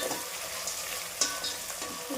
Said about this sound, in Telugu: ఇది కొంచెం ఫ్రై అవ్వాలి.